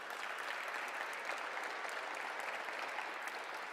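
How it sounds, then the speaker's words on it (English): An audience at a safety symposium gives the event sponsors a sustained round of applause, a thick, even wash of many hands clapping, fairly faint and distant throughout. "let's give every one of our sponsors a really big round of applause"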